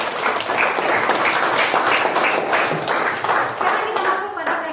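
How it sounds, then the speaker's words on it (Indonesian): Students in a classroom clapping for themselves, brisk dense applause with some rhythmic unison claps, close and loud, continuing steadily for several seconds. "Berikan tepuk tangan untuk diri sendiri."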